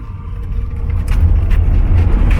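Car engine running and growing louder as it swings through a U-turn, a steady low rumble that rises in level partway through, with no voices.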